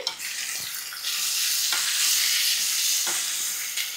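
Capsicum and onion fry in a pan with a loud, steady hiss and crackle, broken by a few scraping stirs, close up and with no talking.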